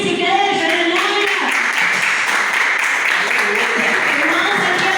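A church congregation claps together during a Portuguese-language worship service, a loud, steady wash of applause that carries on for several seconds with a voice speaking over it.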